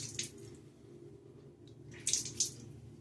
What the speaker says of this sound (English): Then I just dip it in clean water here in the brush scuttle and squeeze it out until the water comes out clear